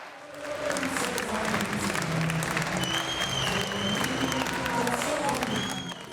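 A large crowd claps steadily and loudly at a French political rally in Marseille, the applause sustained and dense throughout with a few cheers mixed in.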